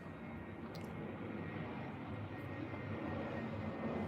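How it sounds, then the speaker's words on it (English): A propeller or jet airplane drones overhead, a steady low rumble that slowly builds in loudness with no voices over it. "Hear that plane?"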